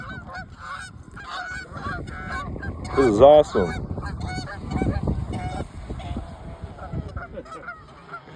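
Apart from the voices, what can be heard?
geese honking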